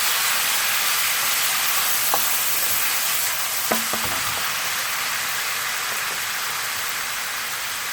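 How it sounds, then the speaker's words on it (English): Steady, loud sizzling of Madras curry paste frying in a pan fills the clip, with a few clinks and scrapes of stirring partway through. "We've got quite a lot of sizzling there"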